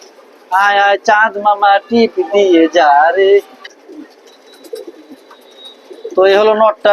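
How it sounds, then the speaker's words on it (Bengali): A pigeon, a racing bird offered for sale, gives several loud, close coos in quick bursts, pauses, then coos again at the end, with no talking. "একটু ডাকায় দেখাই কবুতরটা"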